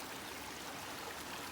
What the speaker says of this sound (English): creek crossing where there's a small cascade of water coming down